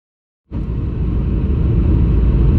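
A car sets off on a road trip. Its engine rumble starts abruptly out of silence and then holds a loud, steady, close drone with no talking.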